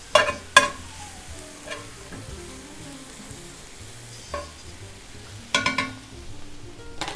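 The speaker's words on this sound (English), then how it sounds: "I'm going to take the onions, put them in here." Onions fry in a pan with a quiet, steady sizzle, broken by several sharp scrapes and clanks of a utensil stirring them, close up.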